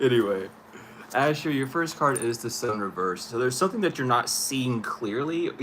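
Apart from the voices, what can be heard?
No distinct noise like a dog, phone or traffic.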